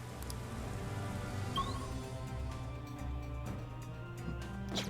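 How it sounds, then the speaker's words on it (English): Sudden heavy rain pours in the video game Persona 5 Strikers, a steady dense hiss of rain on surfaces running loud and unbroken throughout, with no talk. "Is this what they call rain? It just started pouring all of a sudden."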